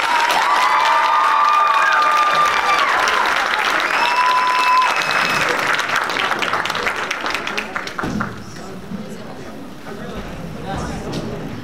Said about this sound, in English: One more round of applause for Bryden.